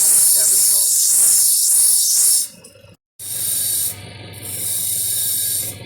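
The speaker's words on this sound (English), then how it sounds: "very, very gentle on the grinding wheel" A grinding wheel working a chrysoprase briolette by hand gives a bright, high hiss that stops for a moment, then resumes in gentle passes, with quieter stretches between them.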